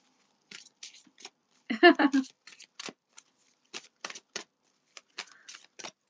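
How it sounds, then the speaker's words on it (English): Playing cards being shuffled up close, crisp riffling bursts and scattered flicks with short pauses between them, no one talking. "sometimes I shuffle the cards as I talk"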